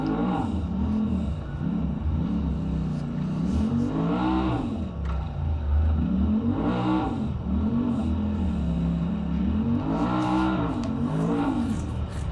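A Pro Mod UTV runs on a wooded race trail at the Rock Run IXCR event, its loud engine revving in repeated rising and falling waves, close and continuous.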